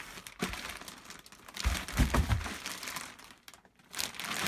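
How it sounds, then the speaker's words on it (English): A big plastic bag from the packaging of an EVH 5150III EL34 amp head crinkles and rustles up close in uneven bursts, loudest in the middle, with no talking. "Big old plastic bag."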